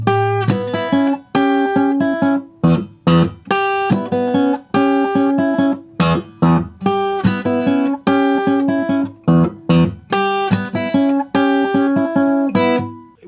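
Electric guitar plays a slow, deliberate blues lead line, single notes and bends ringing out one after another with short gaps.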